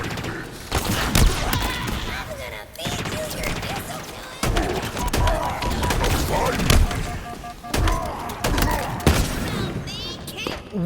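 Grenade blasts and rapid gunfire in Halo Infinite combat, a loud, close barrage of sharp shots and heavy thumping booms in bursts, with brief lulls and electronic game effects mixed in.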